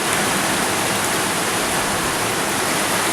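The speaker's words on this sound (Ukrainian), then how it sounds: "А от і сам дощ" Steady, dense hiss of summer rain in Kyiv, constant and fairly close, with no voices.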